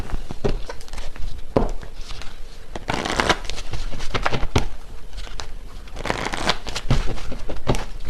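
Tarot cards shuffled by hand, a run of crisp riffling and flapping bursts repeating at close range with brief pauses between, no talking.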